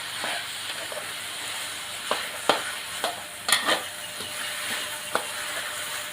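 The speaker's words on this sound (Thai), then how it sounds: "ผัดรวนนะครับ จนกระทั่งเนื้อปลาสุก" Minced fish meat being stir-fried in oil in a pan for Thai fish larb, with a steady sizzle and hiss under repeated scraping and tapping of the spatula, close and fairly loud and with no talking.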